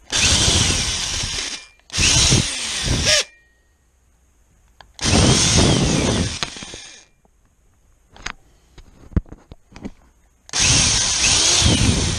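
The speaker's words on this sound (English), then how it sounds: "I'll drill with a small hand drill down each side there" A small hand drill whirs in several bursts of a second or two each, boring down the sides of a cast net needle, with short pauses and a few light knocks and clicks in between.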